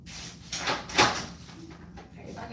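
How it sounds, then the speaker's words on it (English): Someone bangs on a door indoors, a few heavy thuds and rattles spread unevenly over a couple of seconds at moderate distance, with faint room noise between the hits. "You hear somebody banging on my door?"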